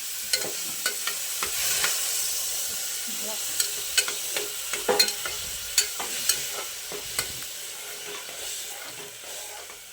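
Spices and tomato frying in a pan for egg biryani, stirred with a steady sizzle and repeated sharp scrapes and taps of the utensil against the pan, fairly close, with no talking.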